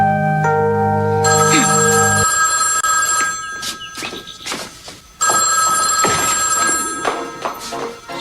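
A telephone bell rings in loud repeated electronic bursts inside a room, with several long rings separated by short gaps and no talking over them.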